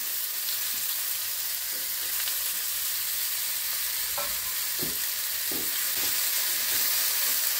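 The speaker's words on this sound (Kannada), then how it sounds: "ಈರುಳ್ಳಿ ಹಾಕಿ ಫ್ರೈ ಮಾಡ್ಕೋತಾ ಇದ್ದೀನಿ" Onion and capsicum frying in a pan, a steady close sizzle with occasional soft scrapes and taps of a spatula stirring the pieces, and no talking.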